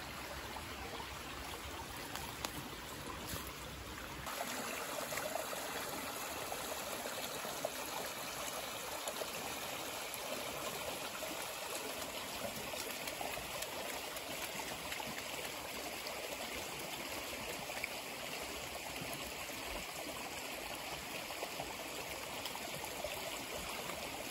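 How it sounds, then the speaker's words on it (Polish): Swollen stream running full in its channel, a steady close rush and trickle of water that carries on evenly throughout, with a slightly different tone for the first few seconds. "No i sporo wody, ale jeszcze się trzyma ładnie koryta."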